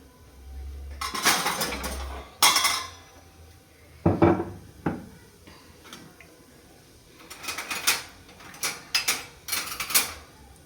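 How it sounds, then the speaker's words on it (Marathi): Pots and utensils being scrubbed and washed after cooking: scattered bursts of metallic clanking and clinking, with quieter scraping between them. The clatter is close by and comes in irregular clusters. "स्वयंपाक बनवता बनवता थोडेफार भांडे पडले, लगेच घासले ना, जास्त वेळ नाही लागत आहे"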